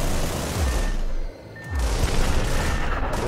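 Missile blasts in the flight combat video game Project Nimbus, with heavy booms and rumbling explosions that drop out for a moment near the middle and then roll back in loudly.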